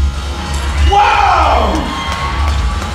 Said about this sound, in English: If it works, get ready to go wild with applause.